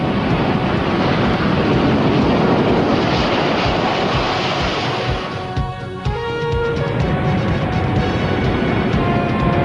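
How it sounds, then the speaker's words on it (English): An F-16 fighter jet of the Pakistan Air Force takes off, a loud, dense rushing roar filling the whole span, dipping briefly and then surging back, with wind buffeting the microphone and no voices. "F-16 aircraft, the most potent modern-day aircraft in PAF inventory"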